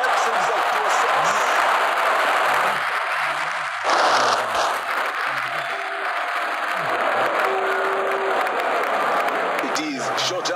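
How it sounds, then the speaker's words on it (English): Stadium crowd at a Pakistan vs Sri Lanka ODI cricket match cheering after a six, a dense sustained roar with applause across the whole stretch, loud and continuous, with scattered whistles and horn-like tones over the din. "Crowd going mad here."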